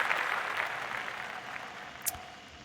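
Scattered clapping from participants on an online talk show, fairly quiet and steady for about two and a half seconds with one sharper clap near the end, no talking.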